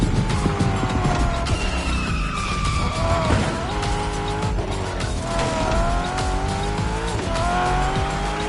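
A car in The Crew Motorfest racing game roars along at speed, its engine rising and falling through gear changes while tires squeal and skid repeatedly, loud and close throughout.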